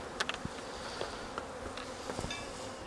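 Honey bees in a hive being split in spring give a steady, soft buzzing hum with scattered brief bumps and clicks close by, and no talking.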